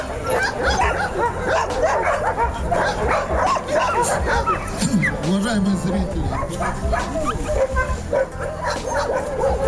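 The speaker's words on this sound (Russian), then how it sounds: "Девочки западно-сибирской лайки." West Siberian Laika females bark and yip in repeated bursts with some whimpering, close by at a Yakutian laika show, while a person talks over them.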